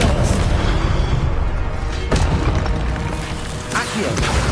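A spell-casting burst in the Hogwarts Legacy video game, with sharp booming impacts at about 2 and 3.7 seconds over a continuous, dense layer of game noise.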